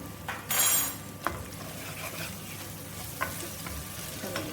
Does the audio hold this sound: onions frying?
yes